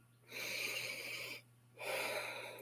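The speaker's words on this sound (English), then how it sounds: "let's take one more deep, nourishing breath together" Two slow, deep breaths during a guided meditation, a long airy inhale followed by a pause and another breath, close and soft against a faint steady hum.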